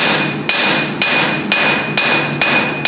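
A hammer strikes hot metal while a blacksmith forges a double-sided shouldered handle, landing six evenly spaced, ringing blows close up and loud, with no voices.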